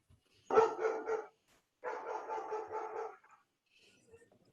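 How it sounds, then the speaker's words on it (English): Dogs barking indoors in two short bursts of rapid, fairly close yaps separated by a brief pause, then a few faint whimpers. "Sorry, my dogs are interrupting."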